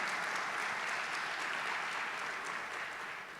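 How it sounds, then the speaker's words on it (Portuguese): A church congregation applauds during a sermon, a dense, sustained round of clapping from many people that fades slightly toward the end. "Aplauda Ele"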